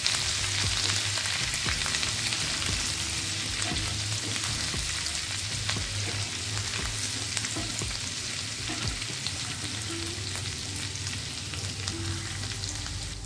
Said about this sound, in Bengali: তিরিশ সেকেন্ড আদা রসুনটা ভেজে নিয়ে